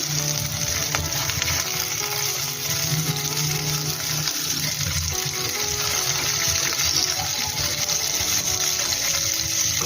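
Stuffed ash gourd fries in a pan, the lid just lifted, with a loud, dense and unbroken sizzle of bubbling oil running steadily from start to finish.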